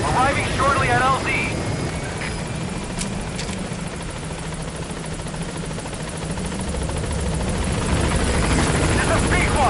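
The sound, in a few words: helicopter arriving at landing zone in video game Metal Gear Solid V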